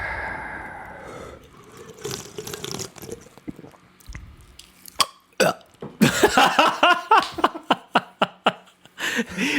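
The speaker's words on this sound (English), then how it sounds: "I couldn't swallow, so I had to burp it out" After gulping too much milk, a person lets out a throaty burp, followed by a string of sharp, rhythmic hiccup-like gulps and mouth noises, close and fairly loud.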